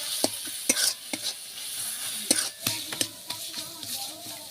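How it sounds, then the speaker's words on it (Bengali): Spices with chilli, turmeric and sugar are stir-fried in a pan for a Bengali banana-flower curry, with a steady sizzle broken by repeated spatula scrapes and knocks, close and fairly loud, and no talking. "এবার ভালো করে মশলাটা একটু কষে নেব।"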